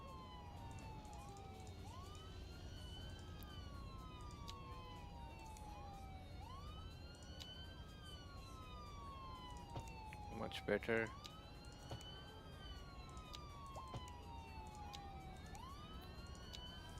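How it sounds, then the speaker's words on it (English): Ambulance sirens wail in the background of a Cities Skylines 2 city, several overlapping rising and falling tones cycling steadily and faintly behind a low urban hum, while someone speaks briefly. "Those ambulance sounds in the back"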